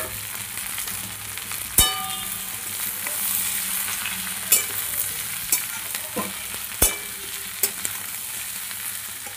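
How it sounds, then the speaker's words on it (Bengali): Young green jackfruit and potatoes frying with fat in a pan, a steady loud sizzle broken by a handful of sharp scrapes and clacks as the pieces are stirred. "কাঁঠালগুলো একটু ভাজি, কাঁঠালগুলো ভাজা ভাজা হয়ে গিয়েছে"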